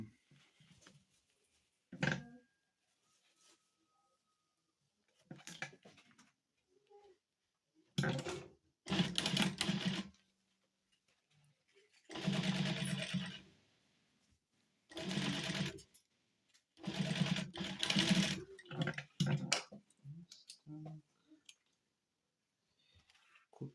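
A sewing machine stitches a cover for a frying pan made from a harrow disc, running in repeated short bursts of rapid whirring separated by quiet pauses, close and clear.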